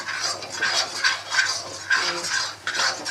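Semolina roasts slowly in a wok over low heat for halwa while a metal spoon scrapes and clinks against the pan in a steady, close rhythm of repeated strokes.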